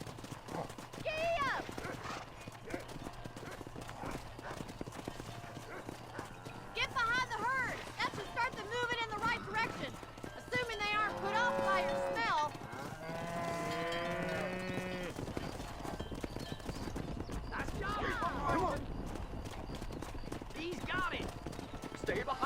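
Hooves clip-clop steadily from a horse in the Red Dead Redemption video game, continuous and fairly close, with people talking over much of it and background game ambience.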